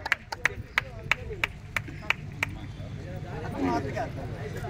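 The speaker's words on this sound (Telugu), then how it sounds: "గట్టిగా చప్పట్లు" A few people clap at a birthday gathering as a gift is presented, a sparse run of about ten separate sharp claps spaced unevenly, then a voice speaking as the clapping stops.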